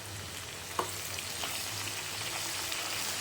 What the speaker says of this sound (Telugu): సిమ్లో పెట్టుకొని వేపుకోండి, లేకపోతే మాడిపోతాయి పోపు దినుసులు